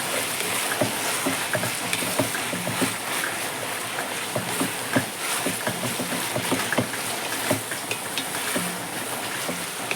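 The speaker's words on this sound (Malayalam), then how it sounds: "എല്ലാം കൂടി നന്നായിട്ടൊന്ന് ഇളക്കി കൂട്ടി നമുക്കൊന്ന് അടച്ചു വെക്കാം." Paneer biryani masala with mint leaves being stirred in a pot, a steady close sizzle broken by repeated scraping and clattering strokes of the spoon throughout.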